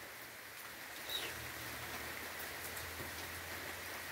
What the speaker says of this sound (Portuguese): Para dar essa beleza dessa chuvada que está chovendo por aqui.